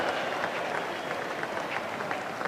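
A large crowd at an Ashes Test cricket match applauds a boundary stroke, a dense, steady wash of clapping heard from a distance that holds at an even level throughout.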